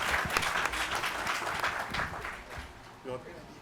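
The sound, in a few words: audience applauding a guest at a town hall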